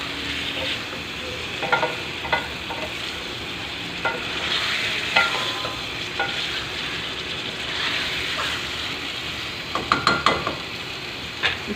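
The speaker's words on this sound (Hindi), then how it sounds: "इसको हम 5 मिनट और भूनेंगे।" Chicken frying in a pan for a chicken and potato curry, a steady close sizzle broken by repeated scraping stirs and clatters of the spoon against the pan, with no talk.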